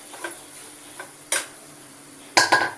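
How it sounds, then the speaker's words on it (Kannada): Onion frying in a pan for a ridge gourd dish, stirred with a few sharp metal clinks and scrapes of a utensil over a steady faint sizzle, with no voices. "ಈರುಳ್ಳಿ ಇದು ಫ್ರೈ ಆಗ್ತಾ ಇದೆ"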